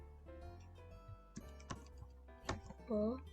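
Keys tap on a computer keyboard in a few scattered clicks while entering a product name into a Java-based sales program, mixed with a speaking voice and a short tonal sound near the end.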